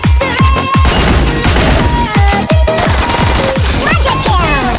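Rapid bursts of gunfire from an UMP in a Vietnamese online shooter match, dense overlapping shots with sharp, loud, continuous firing throughout, and sparse talk mixed in.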